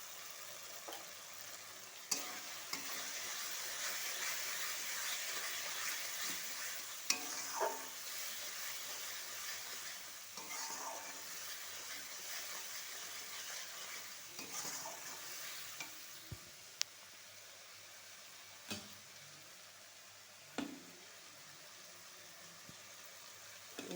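Turmeric, salt and spices with diced potatoes are stirred in a pan for spiced ghugni, a steady sizzle running throughout with scattered clicks and scrapes of a spoon, fairly soft and without talk.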